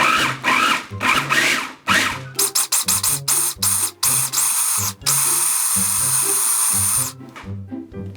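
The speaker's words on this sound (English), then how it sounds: "So the blade can even chop it up more because this is too big." Food processor blade chopping bar soap for homemade laundry detergent, loud bursts of motor whir and clattering chunks that start and stop repeatedly, with one longer sustained run, no talk.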